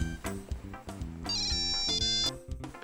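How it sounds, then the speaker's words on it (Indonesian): A mobile phone's SMS notification tone plays alone: a bright, repeating electronic melody of short chiming notes lasting a few seconds. "Maaf ya, aku ada SMS dari temen."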